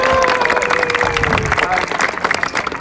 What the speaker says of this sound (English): Round of applause for our little lumberjack